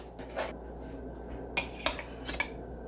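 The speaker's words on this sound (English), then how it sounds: "Now I'm going to give it a little stir." A spoon stirring meat, spices and brown gravy mix in a crock pot gives a few light scraping clinks and taps that come in short, separated bursts, close by and fairly quiet.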